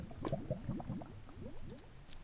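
Water being placed in the Minecraft video game, a soft run of bubbling, gurgling liquid pops in quick succession, quiet and close with no talking.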